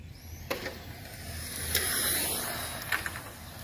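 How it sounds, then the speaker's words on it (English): A Serpent S411 RC car running fast on a 3S LiPo battery, its steady motor whine and tire rush swelling as it passes closest mid-clip and fading again, with a few sharp ticks along the way. "That car seems to be going a lot faster right now."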